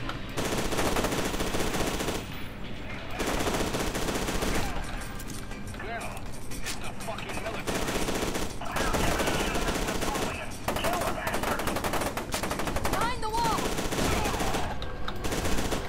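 Sustained machine gun fire from the shooter game F.E.A.R. 2, dense bursts of automatic shots packed across the whole stretch with brief gaps, loud and close, with someone talking over the gunfire.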